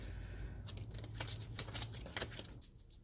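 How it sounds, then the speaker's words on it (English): Tarot cards are shuffled by hand in a riffling, papery stream of soft slaps and flutters, steady and close for about three seconds with no talking. "Sometimes I have to sit here and shuffle for a really long time for cards to fall out"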